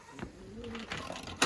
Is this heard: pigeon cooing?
yes